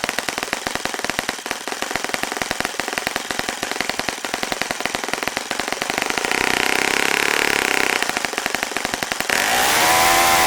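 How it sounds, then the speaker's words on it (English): A Saito FA-65 four-stroke model engine runs at fully closed throttle, a loud rapid staccato chatter that never settles to a low idle, ending in a brief burst of higher revs. "it's fully closed and it's not going down to a very low idle"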